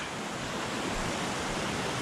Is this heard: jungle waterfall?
yes